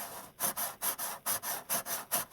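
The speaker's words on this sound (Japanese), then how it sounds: "段ボールを押さえながらぐりぐり回すと穴が開きます。" A metal pipe with a sharpened tip is twisted back and forth into cardboard to bore a hole, about nine rhythmic grinding rasps, close and steady.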